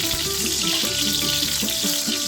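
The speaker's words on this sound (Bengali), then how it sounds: "আলুগুলোকে খুব সুন্দরভাবে একটু লবণ দিয়ে লাল লাল করে ভেজে নিতে হবে।" Potatoes frying with a little salt until reddish-brown, a steady close sizzle with bubbling crackle and occasional stirring scrapes throughout.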